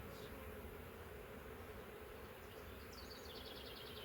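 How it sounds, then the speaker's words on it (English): A steady, faint hum of honey bees crowding swarm trap frames, a continuous buzzing drone heard alone without talk. "Full of bees."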